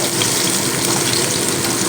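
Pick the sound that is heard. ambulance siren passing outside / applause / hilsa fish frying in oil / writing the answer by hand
hilsa fish frying in oil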